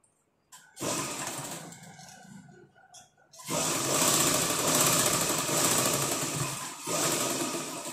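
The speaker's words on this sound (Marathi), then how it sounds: "हे दोन्ही साईडचे आपण बॅक टक्स शिवून घेऊयात" A sewing machine stitches back tucks on a blouse, running in a loud, close, rapid whirring burst, pausing briefly, then racing again in a long continuous run with a short break near the end.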